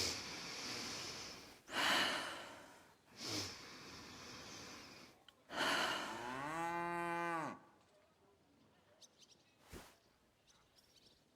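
A man takes deep breaths during a medical check in Kingdom Come: Deliverance II: three loud, close, rasping breaths, the last a long groaning exhale, followed by quiet.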